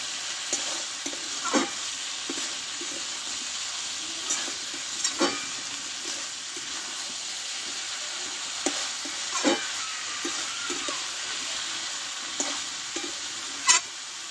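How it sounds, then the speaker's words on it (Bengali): Cabbage and potatoes frying with spices in a pan for a Bengali cabbage dish cooked with a catla fish head, a steady sizzle throughout with intermittent scraping stirs of a spatula, close and moderately loud, no talking. "দিয়ে এবার আলু কপি মশলার সঙ্গে একসঙ্গে আমি নাড়তে থাকবো।"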